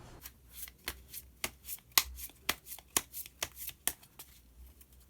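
Tarot cards shuffled up close: a steady run of crisp, papery snaps and riffles, about two or three per second, with no voices.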